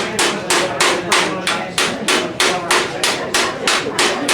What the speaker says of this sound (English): Use the ball-faced hammer.